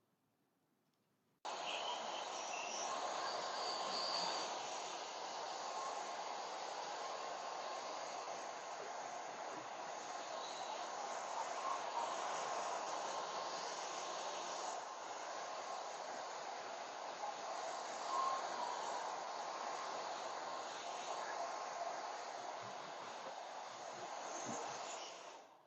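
A hair dryer blows steadily on freshly bob-cut hair, a continuous close whooshing drone that runs almost the whole time after a short quiet start.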